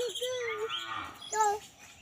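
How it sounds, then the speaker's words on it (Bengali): A cow at a village home gives one drawn-out moo, close and clear, followed by a shorter, higher call near the end. "তুমি গরু দেখো গরু বান্ধে গরু নিয়ে আইছে এই গরু কার বলো তো"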